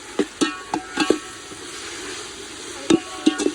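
Small onions and tomatoes sautéed in a pan, with a handful of sharp scraping stir strokes over a low sizzle, clustered early and again near the end, close and moderately loud.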